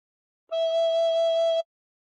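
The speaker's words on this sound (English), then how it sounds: "And put fingers 1 to 5 on holes 1 to 5 and blow once." One recorder note, fingered with holes 1 to 5 covered, rings out as a single pure, steady tone lasting just over a second, alone in quiet surroundings.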